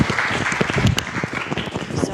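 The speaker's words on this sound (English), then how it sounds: "Give her a round of applause." An audience at a staff appreciation event applauds, with a steady wash of many hands clapping for about two seconds and a voice heard faintly above it.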